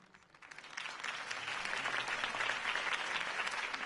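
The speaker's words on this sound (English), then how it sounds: "could have heard that applause" Crowd applause after a campaign speech, a dense steady clapping that swells within the first second and holds loud and sustained throughout.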